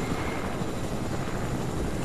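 A helicopter in the video game Fortnite churns nearby, a loud, dense, steady rotor and engine roar filling the brief moment without voices.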